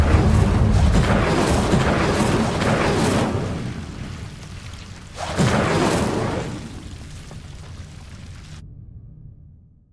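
An Incendio fire spell cast in the Hogwarts Legacy video game bursts out as a loud roaring whoosh, fading over several seconds. A second blast follows midway and tails off before a sudden cut to silence.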